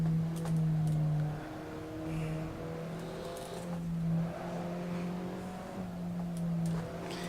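A race car in a multiplayer racing game holds a steady, droning engine note that rises and falls as it revs between gear changes. Tire noise shows faintly, with no talk over it.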